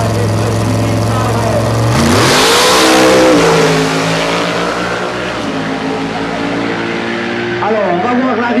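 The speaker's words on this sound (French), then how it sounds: "départ de la petite Fiat 500" A small Fiat 500 pulls away from the line at a car run in Satigny, its engine revving hard and climbing through the gears, loud and close, then fading slightly as it accelerates off, with a crowd murmuring in the background.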